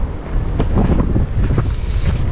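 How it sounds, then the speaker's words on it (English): Cold wind buffeting a microphone outdoors near Kyoto's Arashiyama mountain, a loud continuous low rumble with gusty swells over the whole short stretch, no talking. "Back into the friggin' cold wind."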